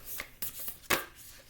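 Tarot cards are shuffled by hand in a few quick, soft riffling bursts, close and fairly quiet, with no talking.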